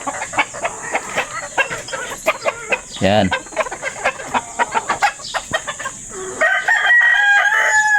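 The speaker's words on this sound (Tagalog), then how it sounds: "Yan ang mga una kong manok guys," A rooster crows loudly nearby amid busy clucking from several small bantam chickens, with a shrill, drawn-out crow near the end.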